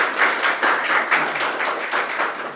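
An indoor audience at a toppers' talk event claps together in a steady rhythmic beat, a dense, loud wash of hands pulsing in regular waves without any voices.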